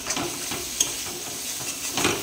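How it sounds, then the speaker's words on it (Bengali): Chopped tomato hits frying masala for a lote fish curry, giving a steady broad sizzle with scraping stirs throughout and a couple of sharper spatters near the end, fairly close and with no talking. "এবার দিয়ে দেবো টমেটো কুচি।"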